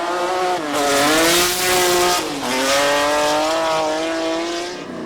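A 1997 Ford Explorer super stock truck races up Pikes Peak, its engine climbing and dropping in pitch through gear changes as tires squeal, loud and close throughout.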